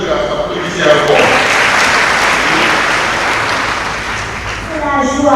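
Congregation clapping at a communion and confirmation Mass in Ouakam, steady sustained applause filling the church, with a voice talking at the start and again at the close.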